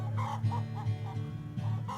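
Hens clucking inside a hatching egg barn, a dense chorus of low, rhythmic clucks and murmurs repeating every half second or so, close and fairly loud against a steady barn hum.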